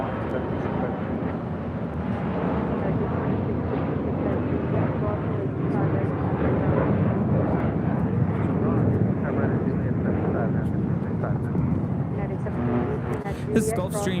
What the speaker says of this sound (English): This Gulfstream G650 ERs taking off to Santa Barbara.